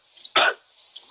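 A single short, harsh cough from a man getting over a cold, close and loud, in an otherwise quiet moment with no talk.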